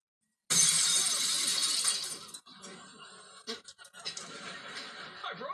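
A pane of glass shatters loudly in a lab-style room, a burst of crashing and tinkling shards followed by scattered clinks and scraping as pieces settle.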